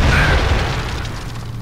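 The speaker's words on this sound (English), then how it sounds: "That's got to be the crappiest explosion I've seen." A blast in the video game Alien Swarm: a single short, muffled boom with a low rumble that fades quickly, loud and close, no voices.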